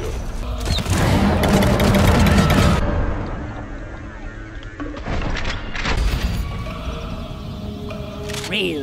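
Explosions in the video game Deep Rock Galactic boom with heavy, rumbling blasts, then crumbling debris, mechanical clatter and scattered smaller bangs follow.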